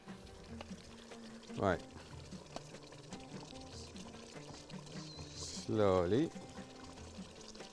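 Rice is poured into a cooking pot of Bahraini biryani in two short pours a few seconds apart, quiet and close, while a person speaks briefly.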